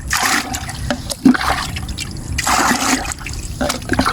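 Water pours steadily into a bucket being filled to about half with a concentrated microbial starter added, giving a loud, continuous rushing splash in two surging bursts, with no talking.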